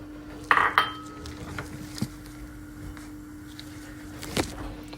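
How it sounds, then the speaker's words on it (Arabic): Pistachios and almonds dry-roasted in a pan without oil for Syrian pistachio sweets, a few sharp metallic clinks and a scrape of utensil against pan, then quieter tapping with a faint steady hum beneath. "وهسه راح نبلش نقلي الفستق واللوز بس بدون زيت"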